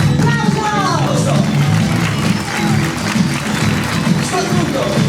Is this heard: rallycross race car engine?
no